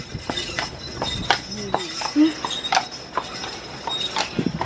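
Horse hooves clip-clop on a hard surface in an uneven, steady rhythm, fairly close, with faint background noise between steps.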